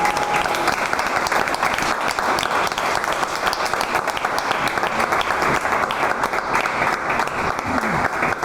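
Sustained audience applause for a violinist at a forum on music in the Canary Islands, dense and steady throughout without breaks, with faint voices underneath.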